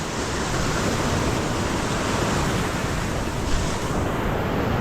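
Sea waves at Bikini Beach on Langkawi Island, Malaysia, heard as a constant broad wash of surf mixed with wind buffeting the microphone, loud and steady without talk.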